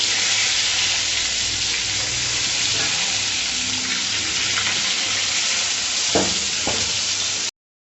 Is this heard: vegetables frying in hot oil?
yes